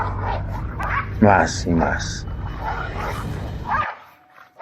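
Dogs barking as a sound effect in a spoken folk tale: a few short, yelping barks and whimpers rise in the middle, mixed under a storyteller's continuous narration.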